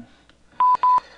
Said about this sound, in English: Your phone just beeped.